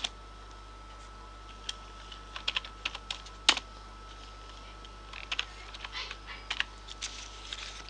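Keys clatter on a computer keyboard during typing in Microsoft Word, in sparse, irregular bursts of clicks with a few louder presses. The sound is quiet and close against a low steady hum, with no talk.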